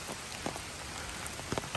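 Rain patters through lakeside woods on a hike, a steady close hiss broken by a few sharper individual drops.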